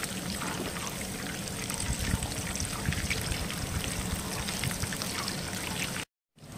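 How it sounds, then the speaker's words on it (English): Bacon bombs frying in a cast iron pan, a steady close hiss and crackle of sizzling fat that runs continuously and then cuts out near the end. "Just gonna have to fry."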